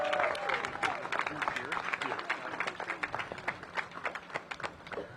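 A crowd at a sports event with the Washington, D.C. mayor applauds her, sharp scattered clapping that thins toward the end, with a voice speaking over it at the start.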